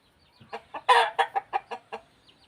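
Thai Yia chickens on a rural farm give a run of about eight short, evenly spaced clucks, one louder burst near the start, fairly close and with no talk over them.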